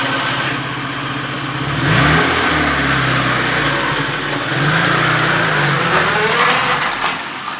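A vintage Opel Kadett car engine revs up and pulls away, its loud mid-pitched rumble rising and falling through gear changes as it drives off.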